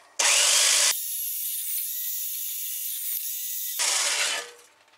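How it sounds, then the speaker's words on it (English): A power drill bores a hole into the eye of a steel skull, a loud, close, high grinding whine that starts abruptly, holds steady for a few seconds with a brief pitch change, then winds down and stops. "I drilled an hole in his eyeball."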